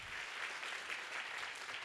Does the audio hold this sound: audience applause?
yes